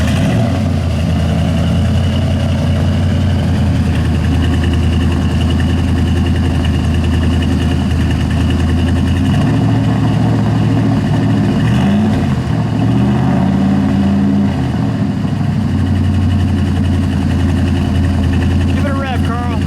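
A 1969 Dodge Dart Swinger with a 340 V8 idles loudly with a deep, steady rumble, the pitch briefly rising and wavering midway, while people talk faintly nearby.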